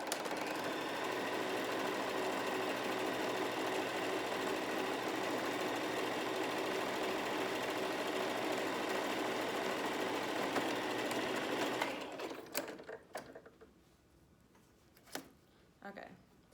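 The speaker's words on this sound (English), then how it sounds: "So sew a seam at 1/2 of an inch around the top, and leave that pocket open there so that they can be able to slide it through" A home sewing machine stitches a half-inch seam along the top of a fabric face mask, whirring steadily and close for about twelve seconds before stopping, followed by a few faint handling clicks.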